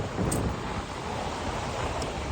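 Ocean surf at a beach in Chennai, a steady close wash of waves mixed with wind rumble on the microphone, with no voices.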